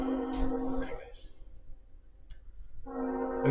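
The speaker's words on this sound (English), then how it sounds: "and there's a train." A train horn sounds in sustained tonal blasts from a passing train, a steady honk fading out and then returning loudly, with a low rumble beneath.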